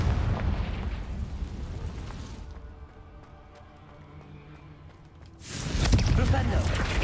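Confringo fire spell in Hogwarts Legacy, a loud rumbling blast that fades into a quieter lull before another heavy burst of fiery roaring, with a voice speaking over it.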